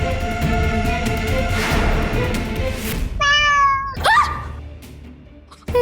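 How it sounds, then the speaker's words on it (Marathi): A cat meows loudly and close in a Marathi television drama scene, a couple of wavering drawn-out cries following a noisy stretch of background music and commotion, then a sudden sharp noise at the end. "मांजर"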